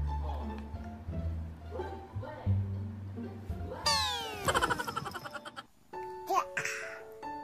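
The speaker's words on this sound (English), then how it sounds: "This is a cat." A cat meows repeatedly, with high, drawn-out cries amid close household sounds and a person's voice; some bursts of squeaky, rising tones.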